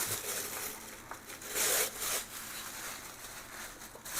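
A new Yamaha air box is pulled from its packaging, making a faint rustling, scraping rub of plastic and wrapping with a brief louder swish midway, heard alone without talk.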